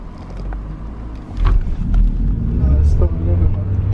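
A car driven by a learner practising stick shift, its engine rumble rising and swelling nearby, with people talking over it.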